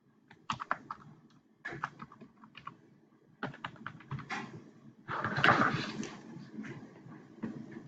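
Typing on a computer keyboard to enter a new password during account registration: bursts of quick, close, clicky keystrokes separated by short pauses, with a denser flurry near the end.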